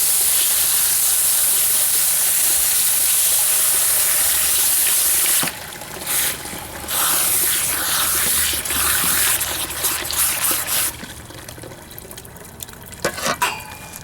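Pumpkin seeds rinse under a loud rushing stream of water for several seconds, then the flow stops and wet handling, splashes and a few clinks follow.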